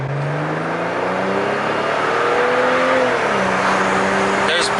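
BMW E92 with a JB4 tune pulling under boost, its engine and intake rising in a steady, loud whir that climbs in pitch, with a voice talking over it.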